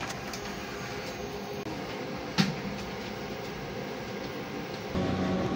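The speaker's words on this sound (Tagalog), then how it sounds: "Printer head clean." A sublimation printer runs a print head cleaning cycle after a week of use, giving a steady mechanical whir with one sharp click midway and a slightly louder shift in tone near the end.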